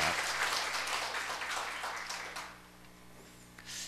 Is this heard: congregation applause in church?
yes